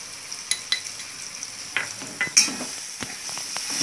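Pav bhaji masala and chopped coriander being stirred into a frying vegetable mixture in a pan, with a steady sizzle under scattered scraping spoon strokes and a few sharper clinks.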